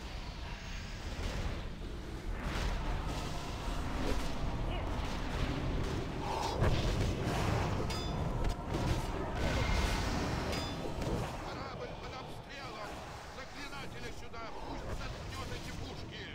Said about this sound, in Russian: Корабль под обстрелом. Заклинатели сюда, пусть заткнет эти пушки.